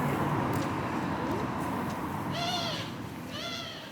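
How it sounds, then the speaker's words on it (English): A strange-sounding bird calls twice in Bruges, Belgium, two short warbling phrases about a second apart rising above steady outdoor background noise. "How weird that bird sounded?"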